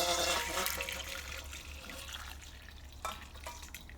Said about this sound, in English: I'm going to throw away this hot water here